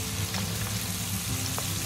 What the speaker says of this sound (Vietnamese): Ở đây mình chỉ chiên vàng thôi.